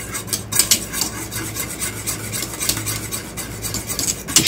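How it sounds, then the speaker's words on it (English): A whisk scraping and rubbing rapidly around a pot of thickening cornstarch custard for an Italian rum cake, a close, rhythmic swishing with small metallic taps. "just don't stop whisking"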